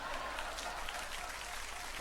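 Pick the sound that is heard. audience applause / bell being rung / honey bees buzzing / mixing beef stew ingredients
audience applause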